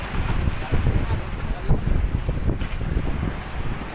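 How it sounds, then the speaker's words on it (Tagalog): Strong sea waves and gusting wind buffet a small boat sailing off the west of the Philippines, a loud continuous rumble with irregular crashing surges and heavy wind noise on the microphone, and a voice talking now and then. "Ayun o, lakas ng alon."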